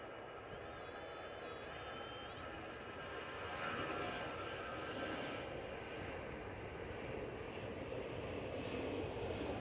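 An Emirates airliner at Manchester Airport gives off a broad, steady jet engine roar at a distance, growing slightly louder midway, with no voices over it.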